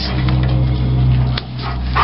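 Household dogs barking and whimpering, wanting to be let outside, heard as low tonal yelps and whines against steady background noise, fairly close, with no talk over them.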